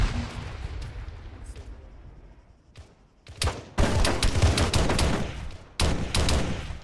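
Rapid bursts of gunfire in Arma 3, with dense volleys of close, loud shots cutting in and out after a quieter stretch with a few isolated shots.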